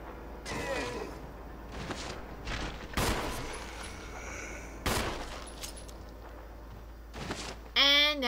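Scattered gunshots in the video game Resident Evil HD Remaster, a few loud, isolated cracks spaced seconds apart over a quiet, eerie ambient backdrop, with a voice briefly audible near the end.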